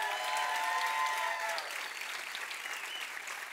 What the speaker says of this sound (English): Give Benny a bigger hand clap